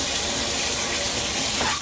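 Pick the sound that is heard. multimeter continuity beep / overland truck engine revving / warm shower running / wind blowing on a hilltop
warm shower running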